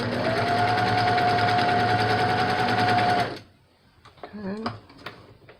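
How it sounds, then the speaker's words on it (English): A sewing machine stitches binding onto a T-shirt quilt, a loud steady mechanical whir for about three seconds that then stops, followed by brief handling sounds and a short voice. "And then I'm just going to sew this over."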